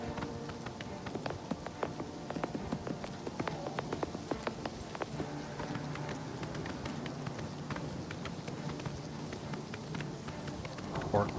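Horse hooves galloping in Oblivion Remastered, a quick continuous drumming gait under a steady game soundscape, with a voice talking over it.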